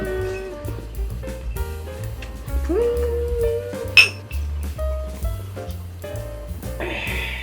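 Glasses clink in a soju toast over a grilled thin-sliced pork belly meal, a sharp bright ting standing out among scattered dish and cutlery clatter.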